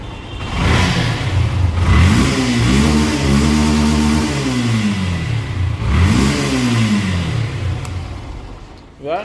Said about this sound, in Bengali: এখন বাইকটা স্টার্ট দিব